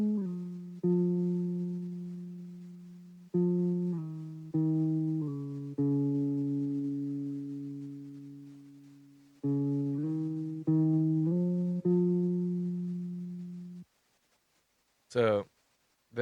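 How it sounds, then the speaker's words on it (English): A slow, moody lead guitar line typical of slowcore, sustained clean notes moving through a simple progression in long held phrases, played alone and up close, ending in silence with a brief squeal near the end. "So my lead guitar sounds like this."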